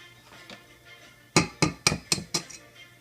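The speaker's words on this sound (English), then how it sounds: "So, first you crack the eggs, crack them good so you don't put any shells in them." Eggs are cracked sharply against a bowl for cake batter, a quick series of five or six crisp knocks after a quieter start.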